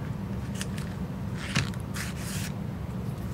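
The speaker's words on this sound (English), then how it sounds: "And cut it off right there." Shape tape paper being cut, a few brief crisp snips and rustles close by over a steady low background hum.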